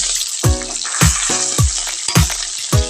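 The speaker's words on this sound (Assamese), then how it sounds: "এতিয়া মাছ ফ্ৰাই কৰিছো মই।" Fish frying in oil in a home kitchen pan, a steady sizzle broken by regular clattering knocks and scrapes about every half second as the pieces are turned, close and fairly loud with no talk.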